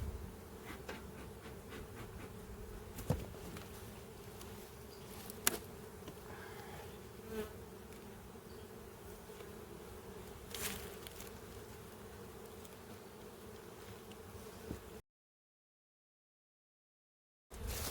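Honeybees at an open hive make a steady, dense, close buzzing drone throughout, with a few faint knocks, then a brief silence near the end.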